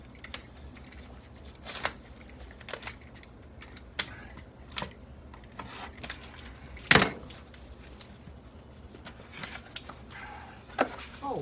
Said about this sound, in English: Let's cut this cellophane off.